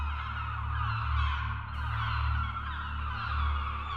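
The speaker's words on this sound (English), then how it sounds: "Many birds circle in the sky overhead." Birds calling overhead above a beach in The Last Door video game, honking, goose-like cries repeating over a steady low ambient hum.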